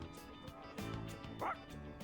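A dog yips and barks a few times in the Persona 3 Reload video game, short close barks over background game music.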